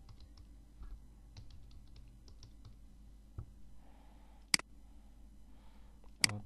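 Soft, quick keyboard typing while filling in a Nepal visa application online, quiet and close, with scattered light key taps and two sharper clicks near the end.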